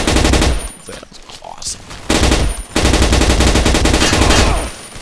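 Rapid automatic gunfire in the video game Blockade 3D comes in loud, sustained bursts separated by short pauses, and a voice speaks briefly between them.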